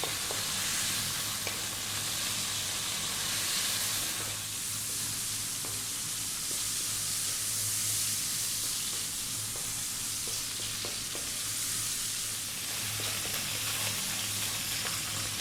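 Bacon frying hard in a pan on high heat, a dense continuous hiss and crackle with occasional stirring taps, steady throughout with no talk.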